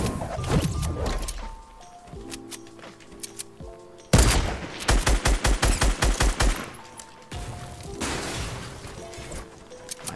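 Fortnite gunfire at Tilted Towers: loud, close bursts of rapid automatic fire alternating with single heavy shots and impacts, in several separate volleys across the clip.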